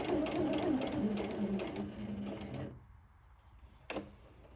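Sewing machine stitching lace onto a jersey tunic, a steady close whirring run that stops partway, followed by quiet and a brief clack.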